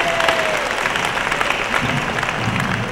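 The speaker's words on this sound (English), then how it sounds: "Give her a round of applause." A crowd at a Congressional Black Caucus job fair in Miami applauds Congresswoman Frederica Wilson, steady clapping with a few voices mixed in.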